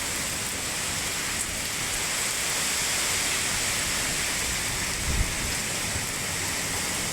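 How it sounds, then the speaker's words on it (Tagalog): Heavy rain lashes down, swirled by strong winds of Typhoon Uwan, in a dense, steady roar that fills the whole stretch, with a faint thump near the end. "Parang umiikot yung yung ulan dahil sa hangin."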